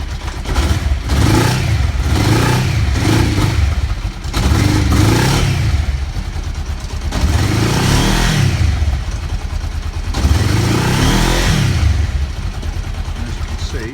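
A Kawasaki GPZ500S motorcycle engine that starts reluctantly runs after starting, close and loud, with uneven rising and falling revs and a rough, clattering mid-pitched tone, throughout and without talk.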